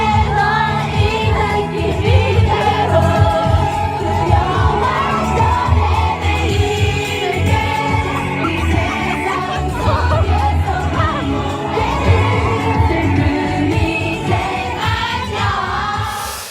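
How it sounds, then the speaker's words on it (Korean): At a street rally, a crowd cheers and chants along to a song, loud and continuous, with many voices shouting over music. "시민들은 노래에 맞춰 환호성과 구호를 외칩니다."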